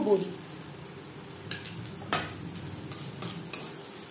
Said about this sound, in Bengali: বড়ি ভেজে নেব